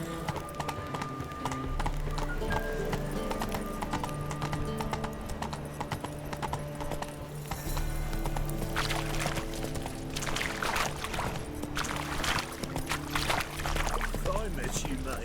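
A horse in The Witcher 3 trots with continuous rhythmic clip-clop hoofbeats over ambient game sound, with brief whinny-like bursts and spoken game dialogue partway through.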